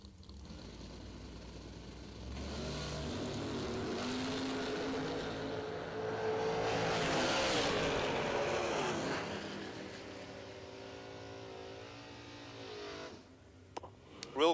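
A Corvette Roadster drag racing down the track, its engine roaring louder as it launches and passes, swelling to a peak then fading away into the distance, with a clatter at the end.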